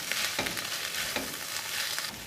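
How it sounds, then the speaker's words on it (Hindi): Cooked egg being stirred into a vegetable filling in a hot pan for Turkish gozleme, with a steady close sizzle and repeated scraping strokes of the spoon across the pan throughout. "अंडा जो है वो पक गया है, तो अब मैं इसको सब्जियों में मिक्स कर दूंगी।"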